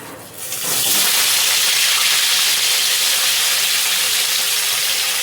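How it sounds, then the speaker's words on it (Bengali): Climbing perch coated in salt and turmeric sliding into hot mustard oil, a loud steady sizzle that swells after a brief start and holds close and bright throughout. "নুন হলুদ দিয়ে কই মাছগুলো মাখা তেলের মধ্যে ছেড়ে দেবো।"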